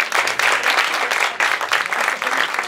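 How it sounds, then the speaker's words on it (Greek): A comedy show audience gives a dense burst of applause that runs evenly from start to end, close and loud, with no speech over it. "Ένα χειροκρότημα, πώς είστε από 30 και πάνω για να δω κάτι"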